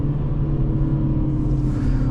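A 2023 MINI Cooper S four-door automatic with a turbo engine accelerating, a steady, loud low engine rumble and drone that holds throughout with no pauses.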